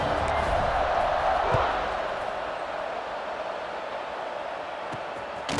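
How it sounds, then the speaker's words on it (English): A steady, dense roar of a stadium crowd after a touchdown in a college football video game, Duke against Clemson, sustained at even loudness with a slight swell early on. "this crowd is buzzing after that last score"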